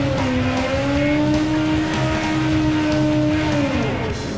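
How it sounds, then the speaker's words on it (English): A NASCAR race car does a burnout, its engine holding a loud, steady, droning high rev with a constant tire squeal, then easing off slightly just before the end. "nice little burnout there"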